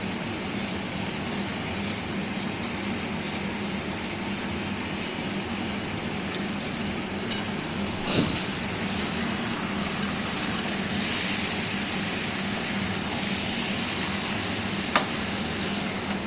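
Mutton with chopped tomato sautéing and being stirred in a pan for a Bengali thin red mutton curry, a steady close sizzle throughout with a few faint clinks of the spoon.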